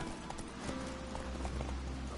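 Hooves clip-clop steadily from a horse in The Witcher 3, a dense, continuous patter of game sound that fills the whole short stretch with no one speaking.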